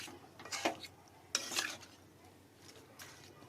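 Chicken with spices being stirred in a kadai on a gas stove for a Bengali chicken curry, a few faint scattered metal-on-metal scrapes and clinks of the spoon over a soft background.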